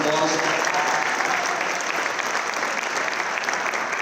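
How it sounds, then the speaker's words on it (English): A crowd applauds warmly at a high school athletic signing event, dense sustained clapping that stays strong and even throughout, with a faint murmur of voices underneath. "So let's give Erin a round of applause."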